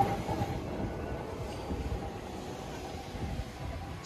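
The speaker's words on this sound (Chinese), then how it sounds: "大连的老式有轨电车" A century-old, old-style Dalian tram rolling through a busy city shopping district, with a steady low rumble and rattle of wheels on rails, moderately loud and continuous.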